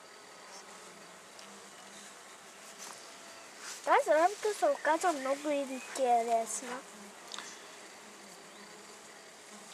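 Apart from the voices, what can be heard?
honey bees buzzing at top bar hive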